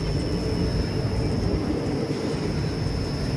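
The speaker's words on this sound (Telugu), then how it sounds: "ట్రైన్ కూడా స్లో చేసేసారు ఈ పొగ మంచు కోసము" Passenger train 16353 from Kacheguda to Nagercoil moving slowly through fog past coconut groves, heard as a steady low rumble of wheels and carriage noise, even and continuous with no talking.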